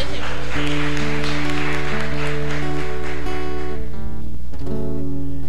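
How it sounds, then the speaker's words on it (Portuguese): A church congregation applauds in a burst of clapping over steady sustained music, with the clapping fading after a few seconds while the music carries on. "Aplaude o Rei Jesus."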